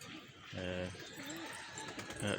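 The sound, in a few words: pigeon cooing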